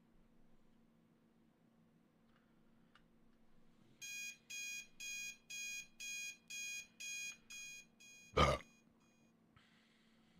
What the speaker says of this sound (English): The bane of all sleep echoes violently by my head, swiftly erasing, still without the energy to turn the alarm off